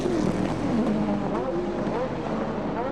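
A race car at the 1997 24 Hours of Le Mans, the sole remaining Newcastle United-liveried car, roars past with a loud, continuous engine drone whose pitch sweeps as it accelerates.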